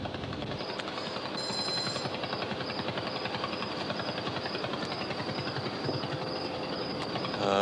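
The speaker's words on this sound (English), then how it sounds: "The pulsar in SN 1987A might sound like this if we were able to pick it up." Simulated sound of the pulsar inside supernova remnant SN 1987A: a fast, steady, rumbling pulse train under a continuous noisy roar, like a rapid mechanical clatter, sustained and alone without speech.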